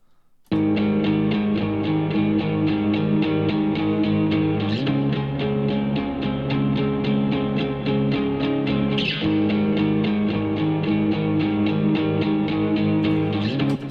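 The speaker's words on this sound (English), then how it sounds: "I ran those through the Archetype Tim Henson, also set to the Teleslap setting" Guitar chords strummed through an Archetype Tim Henson amp sim on its Teleslap setting ring out in steady, even strokes, with a brief pause and a restrum partway through, bright and upfront with no talking.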